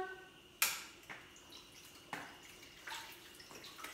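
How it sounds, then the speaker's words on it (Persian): A small backyard water fountain runs with a soft, steady trickle and splash, broken by a few louder drips and plops, fairly close and with no one speaking. "آبنمامونم روشن کنم."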